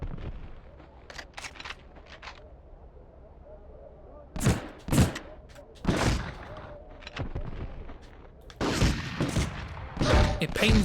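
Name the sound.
gunfire shooting a Fez in video game Medal of Honor: Underground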